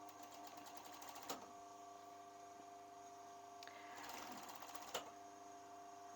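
Domestic sewing machine stitching a seam in stretchy fabric runs with a steady whirring hum near the mic, punctuated by a few sharp clicks and brief bursts, with no one talking.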